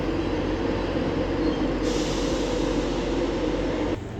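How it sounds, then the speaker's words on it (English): A Grand Central Adelante train passes through Doncaster station on the East Coast Main Line, a loud continuous rumble of wheels on rails with rolling clatter that holds steady before dropping off sharply at the end. "there is the Grand Central Adelante"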